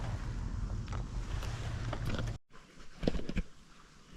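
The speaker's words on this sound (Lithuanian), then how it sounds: "Bliamba, labai vėjas kilo" Strong wind gusts roar and buffet the microphone on an open boat during bream fishing with oat bait, a heavy low rumble that drops out abruptly midway before fainter gusts and light knocks return.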